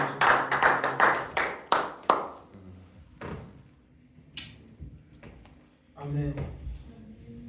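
A church congregation clapping together: about a dozen loud, sharp, rhythmic claps in the first two seconds, then scattered taps and knocks, with a voice speaking in the quieter stretch afterward.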